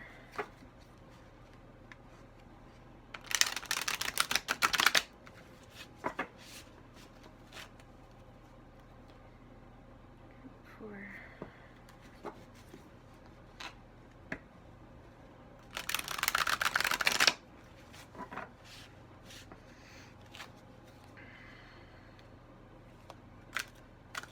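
Tarot cards shuffled by hand in two separate brisk riffling bursts, each lasting a second or two, close and crisp against an otherwise quiet room with faint handling noises between.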